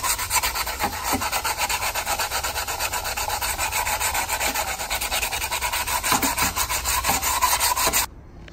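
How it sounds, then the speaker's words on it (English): Hand sanding on a Toyota MR2, heard as quick, even back-and-forth rubbing strokes that are close and steady for about eight seconds before they stop suddenly. "I just sand a little bit"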